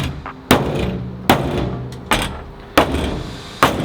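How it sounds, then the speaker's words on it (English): A sledgehammer whacks the sunroof of a Subaru 2.5RS, five loud, close metallic impacts spaced under a second apart, each ringing out briefly before the next. "Grab that sledgehammer. Give the sunroof a couple whacks."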